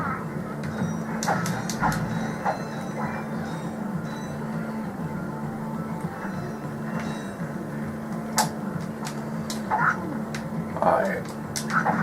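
Dogs bark in the Ratchet & Clank video game, with sharp, repeated yips and barks scattered through the scene over steady game music and effects, while players talk over it.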